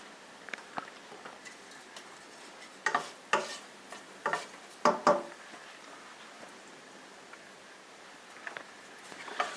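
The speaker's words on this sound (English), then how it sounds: "I'm just going to add sachet 1 and sizzle it for 2 minutes." Curry spices sizzle gently in hot oil, a soft steady hiss broken by a scatter of sharp pops and crackles, with no voices.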